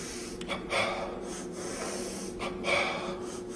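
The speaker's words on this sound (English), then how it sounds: "Don't be afraid to get some deep breaths." Deep, slow breaths during a workout, two long audible inhale-exhale cycles with airy rushes, close and fairly quiet, with no talking.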